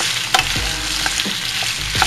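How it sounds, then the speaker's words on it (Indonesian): Fresh vegetables and tomatoes for a creamy chicken pasta frying in a pan, a steady close sizzle with a few scrapes and knocks of a spatula stirring them, no talking. "Kita aduk aja terus, jadi sampai"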